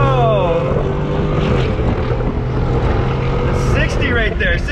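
Ford F150 FlexFuel pickup running E85 fuel launches hard in 4-wheel drive, engine roaring as it climbs through rising gears, loud and close, with a brief excited voice near the start.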